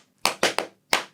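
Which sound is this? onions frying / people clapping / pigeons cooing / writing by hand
people clapping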